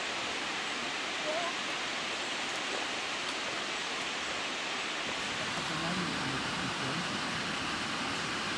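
A steady, dense rush of falling water roars continuously, like a waterfall heard from nearby, on the Oregon coast.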